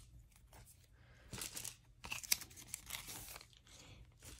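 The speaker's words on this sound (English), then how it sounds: "getting all the tape off." Packing tape being peeled and torn off a K-pop album package, a run of quiet crinkling rips and scratchy pulls of uneven rhythm, close up with no voices.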